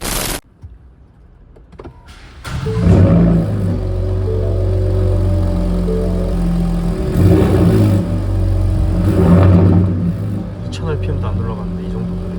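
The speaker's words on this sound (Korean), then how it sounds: "시동 소리 한번 들어보시죠" A Ford Raptor pickup truck's large engine cranks and catches, then settles into a deep, steady idle with a couple of brief swells in revs.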